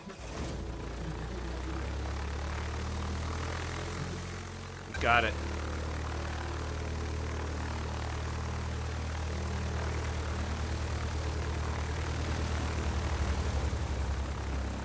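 A propeller airplane engine drones steadily in the video game Lair of the Clockwork God; there is a brief mechanical catch midway, and the engine then continues as a loud sustained hum while a voice speaks briefly.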